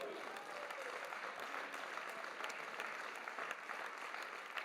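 A hall of people at a regional council session applauds steadily, a continuous even patter of clapping heard at a distance and fairly faint.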